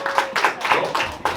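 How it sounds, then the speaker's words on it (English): Scattered audience clapping at a roast battle comedy show in Hartford, a few bursts of claps in uneven groups over a short stretch, moderately loud with faint crowd noise. "clap your hands"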